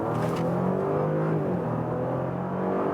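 A VW Touareg R in sports mode with stiffened suspension accelerates on Norway's Atlantic Ocean Road, its engine a steady, loud, rising drone heard continuously from inside or near the car.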